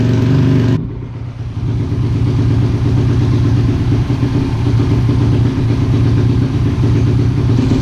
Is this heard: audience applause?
no